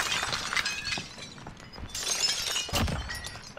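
Glass-like smashing and shattering from an object broken in a PlayStation 4 game, a run of crunchy breaking bursts with a heavier crash near the end, heard over game background noise.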